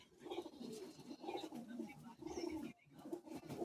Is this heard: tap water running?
no